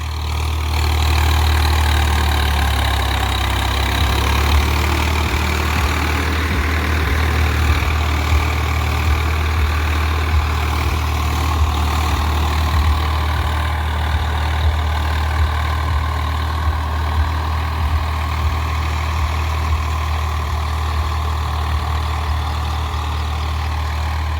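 A Swaraj tractor engine runs with a deep, steady diesel rumble, close and loud throughout, on a farm, without any talking.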